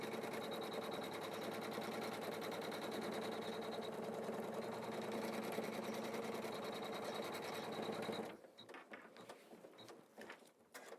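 Embroidery machine stitching quilting, a fast steady mechanical whir and rhythmic needle clatter running continuously for about eight seconds, then stopping and leaving scattered faint clicks and handling noises.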